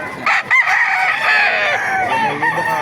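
A rooster crows loudly and close at a crowded chicken market in Baliuag, Bulacan, one long strained call with clucking and other fowl around it.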